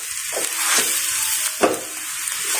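A spoon scrapes and stirs mashed potato samosa filling in a hot pan, with a steady frying sizzle and a few distinct scraping strokes, close and moderately loud.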